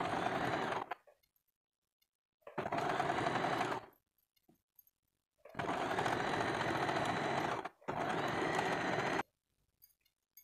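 A sewing machine stitches the cups of a katori blouse in four loud bursts of rapid whirring, cutting to silence between runs.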